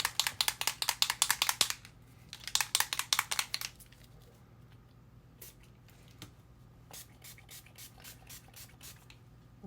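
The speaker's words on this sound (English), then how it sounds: "you'll soak and soak and soak this, and finally when you are sick of spraying it" Several quick bursts of hissing spray from a pump bottle onto denim fabric, each made of rapid squirts, followed by quieter sporadic spritzes and soft dripping.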